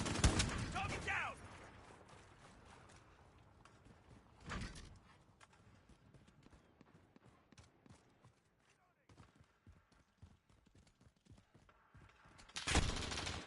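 Gunfire erupts in a Modern Warfare video game match: loud, dense bursts open the clip, another sharp volley lands near the middle, and a final heavy burst comes at the end, with quieter battle ambience between.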